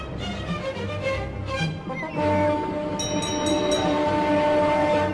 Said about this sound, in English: Toby puffed along the coastal track.